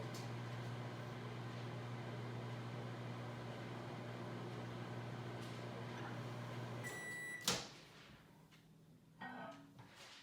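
A microwave oven hums steadily while heating peanut butter, then stops with a beep chime and the door clicks open, followed by a few faint handling knocks in a quiet kitchen.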